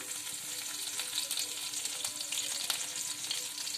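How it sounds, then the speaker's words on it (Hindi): Green chili and garlic frying in hot oil in a kadhai while making egg rolls, a steady close hissing sizzle with small crackles throughout and no talking. "कढ़ाई रे तेल गरम कर देछे, तापरे कंचा लंका रसुण दउछे"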